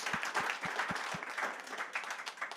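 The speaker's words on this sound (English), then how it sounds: "we're going to stop and clap for this segment." Audience applause at a panel discussion on brain capital and the built environment, opening with a few distinct rhythmic claps that blend into a moderate, even patter of clapping at some distance.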